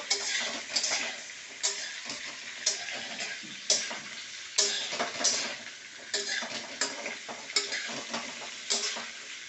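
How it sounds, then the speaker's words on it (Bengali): Carrot, pumpkin, eggplant, potato, radish, spinach and beans frying together in a pan, a moderate sizzle punctuated by regular spatula clicks and scrapes against the metal, close and without talking. "ভালো করে সবজিটা আগে ভেজে নেব"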